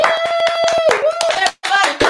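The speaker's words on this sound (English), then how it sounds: "Clap it up. Clap it up." Audience applause during a university Giving Tuesday livestream, scattered claps heard alongside a speaker's voice and a sustained musical tone.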